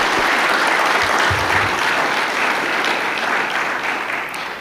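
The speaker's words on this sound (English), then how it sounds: "I think that address deserves another round of applause." An audience at a primary school graduation claps steadily for several seconds, a dense, loud wash of applause that tapers slightly near the end.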